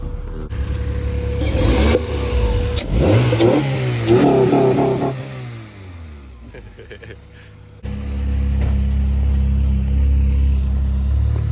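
A Honda Prelude with a swapped H23 engine runs on its first start, rising and falling through several revs before dropping back to a steady idle, loud and close, with people talking nearby.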